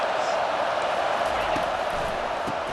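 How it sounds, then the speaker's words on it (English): Stadium crowd noise in EA Sports College Football 25 during a Miami versus Alabama game: a broad, steady roar of many voices, fairly faint and distant-sounding, with a commentator talking over it. "this crowd is turning it up a notch"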